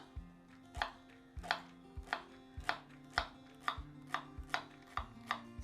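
Leek being chopped with a knife for vegetable stock, a regular series of about ten firm board knocks at a relaxed pace, fairly quiet and close, no voices.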